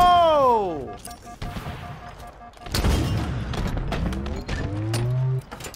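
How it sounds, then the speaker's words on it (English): Grenade blasts in the Halo Infinite video game: one deep, heavy boom bursts out mid-clip, followed by scattered gunfire and mechanical clatter, with a voice heard near the start. "I threw the grenades to keep him at bay."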